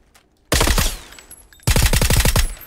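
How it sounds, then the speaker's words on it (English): VSS rifle fire in the battle royale shooter PUBG: two loud, close bursts of rapid suppressed shots, the first about six rounds and the second about eight, separated by a quieter pause. "I'm just going to try to blast him with the VSS."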